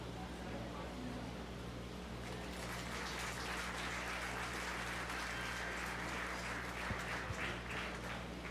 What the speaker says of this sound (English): let's give all these exhibitors a really nice round of applause